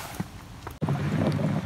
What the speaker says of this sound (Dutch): Het waait heel hard.